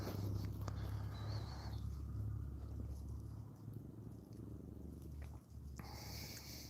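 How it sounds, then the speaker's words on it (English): A three-week-old sanctuary kitten purring steadily and close up, a low continuous rumble that runs through the whole stretch with no talk over it. "A little Spicy's purring."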